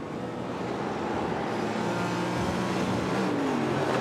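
GT4 race car engine in a sim racing game on the Nordschleife, a loud sustained engine drone with rising revs and an upshift sweep near the end, no talk heard.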